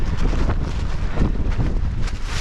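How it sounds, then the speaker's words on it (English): Strong wind gusts buffet the microphone on an exposed mountain summit at Clingmans Dome during a wind warning, a loud continuous roar with rumbling surges and no pauses. "I just tried to step out, but there was this huge gust."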